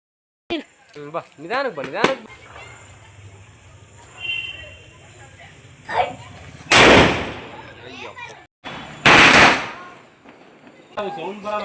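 Two loud, sharp Deepavali firecracker blasts burst a couple of seconds apart, with people talking and calling out before and between them.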